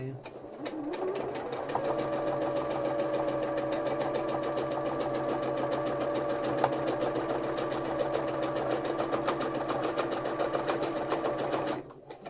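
Domestic sewing machine running steadily for free-motion embroidery on hand-painted fabric, a continuous close whirring hum with a brief start and stop at the ends, and a voice talking over it.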